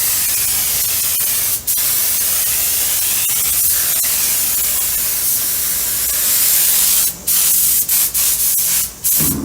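A spray gun applying stainless steel pickling paste hisses in a continuous, loud, close stream, then sputters in short bursts toward the end as the trigger is pulsed.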